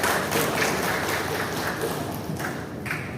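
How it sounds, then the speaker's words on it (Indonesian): A crowd at a PKK women's organisation gathering claps, with a few sharper individual claps standing out from the busy applause throughout the short stretch. "Tepuk tangan."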